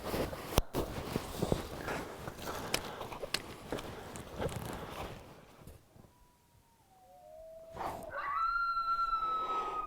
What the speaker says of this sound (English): Those coyotes are closer.